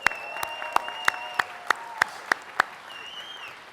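A crowd at a governor's public announcement event claps. The claps come as sharp separate bursts at a steady pace, some loud and close, and fade out toward the end. A faint whistle-like tone runs underneath.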